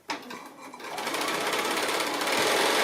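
A sewing machine runs a quarter-inch seam on a pocketbook piece, starting with a clack and then a steady, fast, close mechanical whir that holds to the end without talk.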